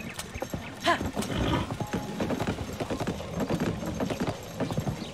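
Horses in Zelda: Tears of the Kingdom, with steady clip-clopping hooves and a sharp whinny near the start, all loud and close.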